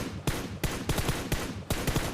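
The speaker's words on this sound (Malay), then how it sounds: "Tembakan masih lagi berterusan, cuba untuk membalas dendam mungkin." Gunfire from the PUBG Mobile video game during a competitive match: rapid bursts of loud, sharp shots in an uneven rhythm, several volleys in quick succession, with no voice over them.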